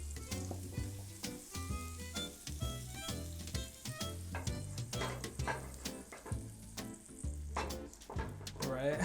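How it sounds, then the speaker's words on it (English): Eggs for an omelette sizzle and fry steadily in a pan, with crackling and stirring scrapes throughout, close and fairly loud. "I hear a bit of a sizzle"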